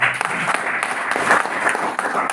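An audience breaks into brief, dense clapping, a steady wash of many hands, fairly loud and sustained without a break.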